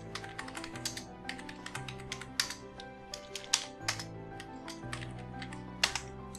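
Rapid, steady typing on a computer keyboard while entering data into an Excel spreadsheet, with crisp, close key clicks in an even rhythm and no talking.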